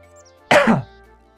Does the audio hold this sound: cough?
yes